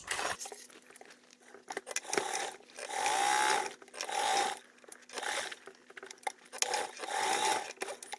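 A sewing machine stitches a zipper onto a tote/crossbody shoulder bag, running in several close, loud bursts of rapid mechanical whirring separated by short pauses.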